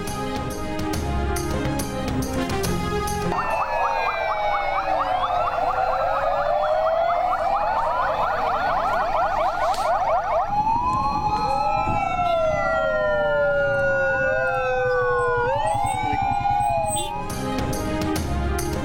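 Ambulance sirens wail continuously in a drivers' protest at a motorway interchange near Sialkot, loud and close, the rising and falling tones overlapping and shifting between wail and yelp patterns.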